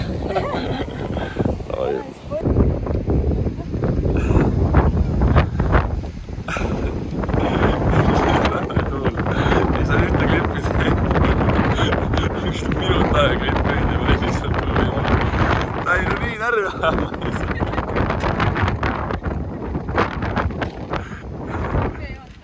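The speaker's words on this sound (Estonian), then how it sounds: "Tuul rannaline, kuigi räme tuul." Strong wind on a seashore buffets the microphone with steady loud roaring and rumbling gusts throughout, with voices faintly mixed in.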